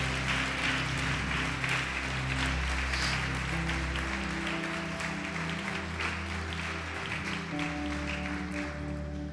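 A church congregation applauds in steady, continuous clapping at moderate distance, with a sustained keyboard or organ chord underneath and a few faint voices.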